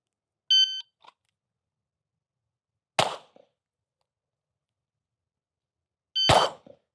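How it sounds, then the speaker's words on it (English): A shot timer beeps once during a shooting drill, then two sharp gunshots follow a few seconds apart, the second shot arriving together with another beep, in otherwise quiet surroundings. "Wait for that second beep."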